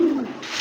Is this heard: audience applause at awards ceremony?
no